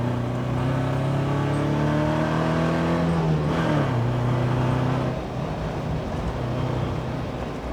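A 105 coupe's engine revs steadily while driving, a loud close drone that climbs in pitch, dips briefly around a gear change, then settles at a lower, even note.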